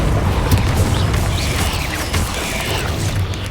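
Depulso spell blasts in Hogwarts Legacy, a heavy booming magical impact with rumbling, crunching debris layered under clattering combat noise, loud and close.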